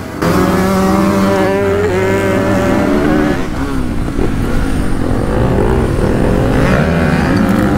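A Suzuki DR 350 trail motorcycle pulls away hard at the start of a cross and enduro race, its loud engine rising and falling in pitch as it revs through gears close up, with other bikes roaring around it.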